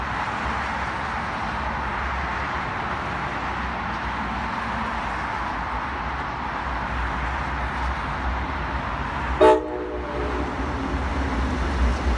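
A steady rumble of an MBTA or Amtrak passenger train rolls past continuously on the Grand Junction branch in Cambridge, Massachusetts, with a short horn blast near the end.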